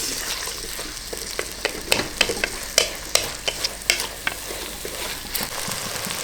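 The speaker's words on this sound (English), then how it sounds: "you want to add the chilies, tomatoes, and the onions. Give that a mix." Chilies, tomatoes and onions frying in a pan for keema aloo mattar, a close sizzle under a run of sharp spoon clacks and scrapes that build in the middle, then ease back to a steadier fry.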